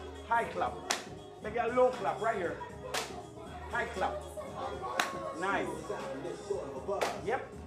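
Hand claps in a children's exercise routine, sharp single claps spaced about every second or two, heard under an instructor's talking and counting.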